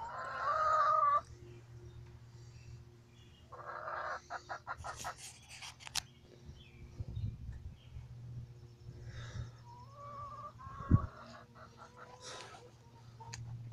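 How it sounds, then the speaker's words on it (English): Chickens cluck and squawk in several bursts, with a rooster-like call early on, over a steady low hum and occasional knocks. "This is a gang of whatever chickens are."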